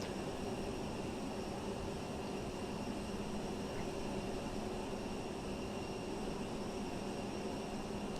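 A FlyByWire A32NX airliner in a flight simulator sits at Heathrow during pushback, its engines giving off a steady, even whine and broadband roar that stays constant and unbroken, with no voices heard.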